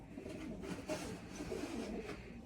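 Pigeons of fancy Turkish breeds such as rakkas, kıvırcık and posta coo in a low, steady murmur that runs continuously throughout, fairly close and moderately quiet, with no talk.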